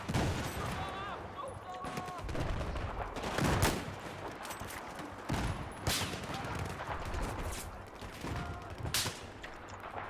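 Gunfire erupts in the video game Battlefield 4, with sharp shots and rapid bursts at close and middle distance over constant battle noise, and voices can be heard alongside.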